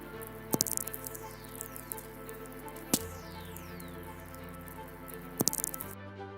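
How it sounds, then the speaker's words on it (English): Faint crackling static with a few sharp clicks and descending whistling tones sweeping down, natural radio waves from lightning on Earth, steady hiss underneath. "Just a few small little cracks and whistles, nothing too special."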